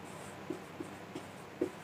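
Handwriting on paper while solving a class 10 math equation, with a few faint, soft pen taps and strokes spaced out against quiet room tone.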